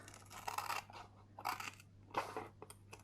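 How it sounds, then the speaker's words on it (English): Three crisp snips of scissors slicing through a stiff laminated plastic pouch, close and spaced about a second apart. "grab yourself a pair of scissors, and I'm going to cut"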